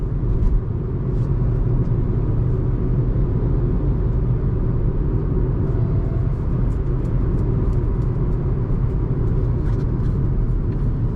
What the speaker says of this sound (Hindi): अब मैं 10 सेकंड के लिए चुप हो जाता हूँ और जो इनसाइड कैबिन नॉइज है वो एक बार यहाँ पे आप सुन सकते हैं।